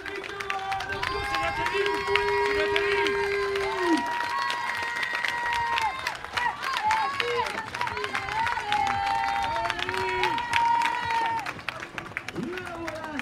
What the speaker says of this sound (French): D'un tonnerre d'applaudissements, Cindy Pagesi.